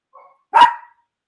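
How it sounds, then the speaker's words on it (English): A small dog lets out one loud, sharp bark close by, preceded by a faint short whine, with no talking over it. "this is the littlest dog with the biggest bark"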